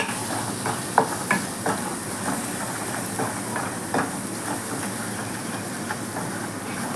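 Tomato rasam sizzling and hissing steadily in a pan while being stirred, with soft scraping strokes of the spoon, close and continuous.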